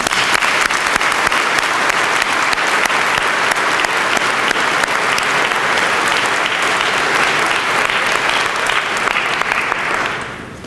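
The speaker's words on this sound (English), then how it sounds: "Join me in a round of applause for these guys." Sustained audience applause at a university honors convocation, a large crowd clapping steadily and loudly for about ten seconds before tapering off at the end.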